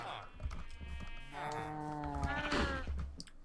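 Minecraft farm animals call out, with drawn-out bleats of sheep and a low moo-like tone of cows, fairly quiet and close.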